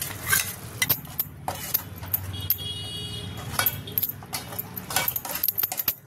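Masala paste being stirred into fried onion and tomato in a pan for a prawn curry, with repeated clinks and scrapes of a spoon against metal over a soft sizzle, close and moderately loud.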